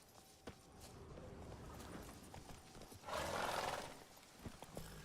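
Roach, the horse in The Witcher 3, gallops under a steady layer of game noise, with a louder rushing burst midway and scattered thuds from hooves.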